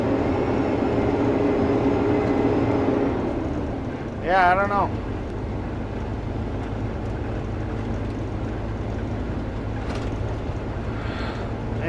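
Inside the cab of a big truck, the engine gives a steady, loud, jet-like whine and drone while accelerating, with someone speaking briefly over it.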